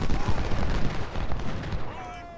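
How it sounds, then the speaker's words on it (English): Massed Civil War era musket fire from flanking troops in the Ultimate General: Civil War video game, a continuous dense roar of overlapping gunshots and rumbling blasts that stays loud for the whole stretch. "This is some nice flanking fire."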